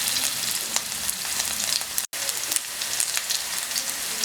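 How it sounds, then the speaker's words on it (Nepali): Onions fry in a pan, browning for Nepali-style chow chow soup. A steady, close sizzle with crackling pops runs throughout, broken by one brief dropout. "प्याजलाई चाहिँ हल्का ब्राउन बनाउनु पर्छ।"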